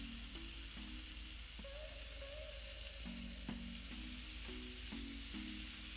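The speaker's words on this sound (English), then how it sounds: "Once the oil is heated, you add your chunks of meat and you just want to brown them from each side." Chunks of beef browning in hot olive oil for shredded beef, a steady loud sizzle and crackle with occasional stirring and pan scrapes, no voices.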